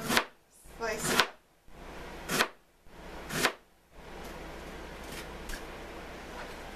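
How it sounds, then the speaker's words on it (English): A knife slicing through cabbage on a cutting board: four or five crisp crunching cuts at an uneven pace, close and fairly loud, followed by quieter rustling. "the top of the cabbage and discard the core and slice it"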